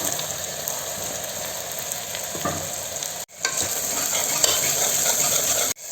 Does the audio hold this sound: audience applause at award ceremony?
no